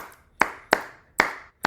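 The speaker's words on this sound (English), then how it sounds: "now this clap has purpose" Four sharp hand claps ring out alone with deliberate, uneven spacing between them, each a crisp, close, bright smack with a short decaying tail.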